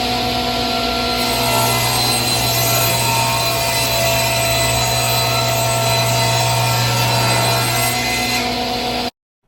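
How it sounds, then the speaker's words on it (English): A table saw cuts a wooden panel to final size in one steady, loud whine with a constant motor hum. It holds for about nine seconds, then stops abruptly. "When cutting your panel to final dimension, measure your fence from your blade to get the correct length."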